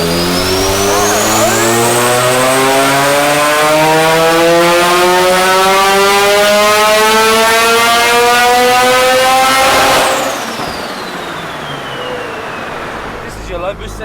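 A tuned Mazda RX7 rotary engine on low boost revs up in one long, loud, rising pull, held at the top, then cuts off sharply, leaving a quieter idle and some talk.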